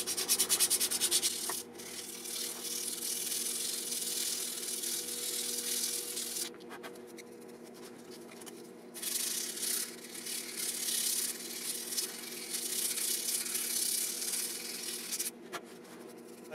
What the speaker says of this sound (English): I'm just going to take little piece of 220 and just do it by hand